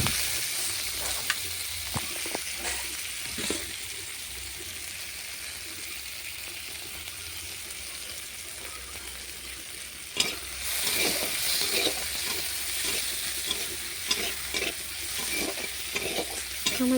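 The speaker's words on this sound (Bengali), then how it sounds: "কেটে রাখা পেঁয়াজগুলো দিয়ে দেবো। পেঁয়াজগুলো হালকা লাল করে ভেজে নিয়ে" Chopped onions fry in hot oil in a pan, a steady broadband sizzle running throughout with frequent scraping stir strokes and clinks, growing busier in the second half.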